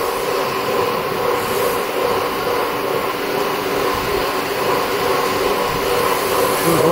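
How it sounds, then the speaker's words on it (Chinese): A wire traction machine runs on an aluminum alloy wire shaving and straighten-cutting line as wire is threaded, giving a steady loud mechanical whir and hum with a constant drone and no pauses. "现在正在进行的是牵引机穿线部分"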